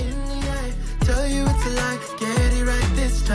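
A punchy kick drum thumps about every half second under a dense harmonic band arrangement, loud and continuous, with no talking over it.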